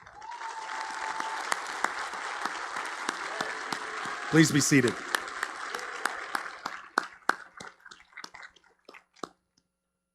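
Applause from a seated audience at a Cushing Academy commencement ceremony, steady and dense for several seconds before thinning into scattered claps, with a voice asking people to be seated near the end.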